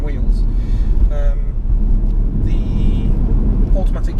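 A SsangYong Tivoli XLV with an automatic gearbox drives along, its steady engine and road rumble loud and continuous inside the cabin, with faint tonal whines drifting in and out.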